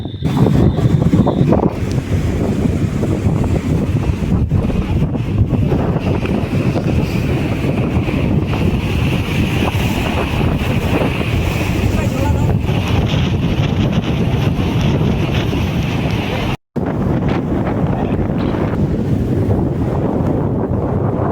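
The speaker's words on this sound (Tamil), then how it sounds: "இங்கேயும் சரிங்க செம்ம காற்று அடிக்குதுங்க நிற்கவே முடியல" Strong cyclone wind blasting the microphone in a constant roar at the seashore on Kovalam beach near Chennai, with surf washing in the background, going on for about twenty seconds with one brief dropout.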